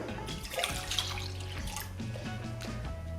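About 1.5 cups of water pour into a bowl holding two whole eggs, a continuous splashing, bubbling stream at moderate volume with faint background hum and no talking.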